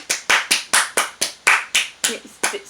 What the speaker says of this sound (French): On peut m'applaudir quand même.